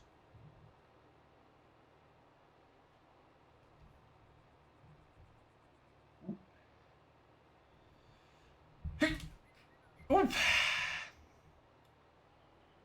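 A single sneeze in a quiet room, a sharp close burst preceded by a short sniff and followed by a brief exhale, with a small spoken exclamation after.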